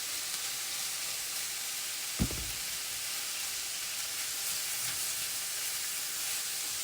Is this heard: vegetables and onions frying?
yes